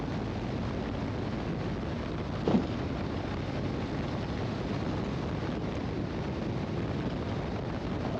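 Wind buffets a rider at speed on a 2023 Harley-Davidson Low Rider ST motorcycle as a constant broadband rushing roar that stays steady throughout, with one brief bump partway through.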